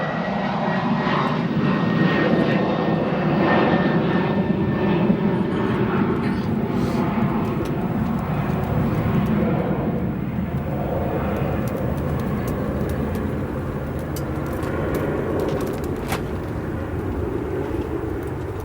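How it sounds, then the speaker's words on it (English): A Star Alliance United Boeing 737 lifting off at O'Hare, a sustained jet engine roar that stays strong throughout before gradually thinning, with a faint high whine early and a voice talking intermittently over it. "as that Star Alliance lifts off, headed to Tampa"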